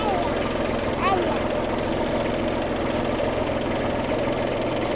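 A tractor engine runs steadily in a chickpea field, a constant loud mid-low drone that fills the whole stretch without pause, with a faint whistling chirp briefly above it.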